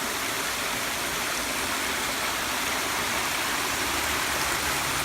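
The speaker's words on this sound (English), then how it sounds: "I'm not sure what the name of this waterfall is. It's absolutely beautiful." Waterfall right off the M28 highway, a steady, dense rushing roar of falling water that fills the whole stretch evenly and without break, with no voices.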